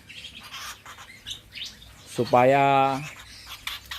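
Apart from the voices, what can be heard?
birds chirping in an aviary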